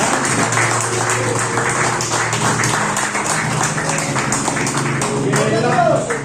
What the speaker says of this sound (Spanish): quiero que le levantemos una ofrenda de aplauso para el Espíritu Santo